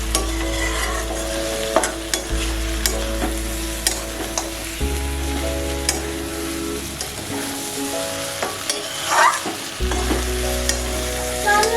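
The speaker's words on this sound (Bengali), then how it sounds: "এবার এর মধ্যে আমি জল দিয়ে দেবো।" Water goes into a pan of browned Bengali country-chicken curry, giving continuous sizzling and frying with scraping stirs and a shift in the hiss partway through, close and steady with no talk.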